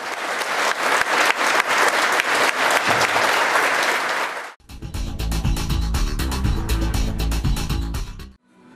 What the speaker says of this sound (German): Ein beeindruckender Musikabend, für den das Publikum viel Applaus spendete.